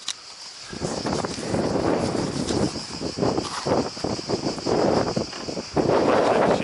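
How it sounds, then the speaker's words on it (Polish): Steady wind gusts buffet the microphone on a beach at Turanj, Croatia, a continuous broadband roar that swells and eases throughout, loud and close, with no voices. "dzisiaj są wiatry"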